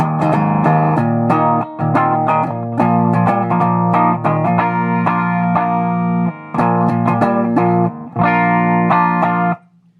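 Electric guitar with Ibanez Prestige humbuckers played on the clean channel of a Peavey Valve King 50-watt combo, loud and bright ringing chords and picked notes with a few brief gaps, ending abruptly.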